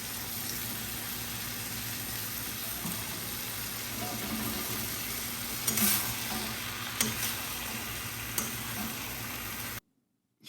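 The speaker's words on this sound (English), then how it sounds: "So you want it nice and sizzling when you're adding these in." Mushrooms sizzling and frying in a masala base in a pan, a steady close crackle with occasional stirring scrapes and clatters, no talking.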